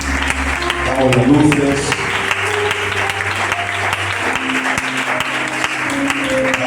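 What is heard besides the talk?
congregation applauding in church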